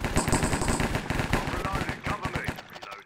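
Rapid automatic gunfire shooting through a wall in a Minecraft Cops & Crims match, with dense, loud bursts of shots and players talking over it.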